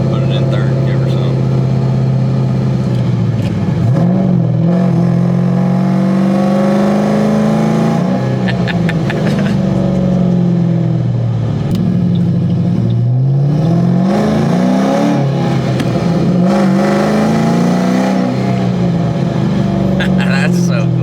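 A tuned Ford Mustang GT accelerates hard through the gears, its loud engine climbing in pitch and dropping at each shift, with voices talking inside the car over the roar.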